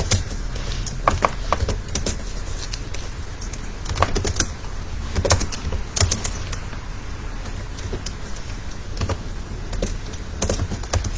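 Keys tapped on a computer keyboard while a JavaScript program is written, soft irregular clicks in short bursts over a faint steady background hum, with no voices.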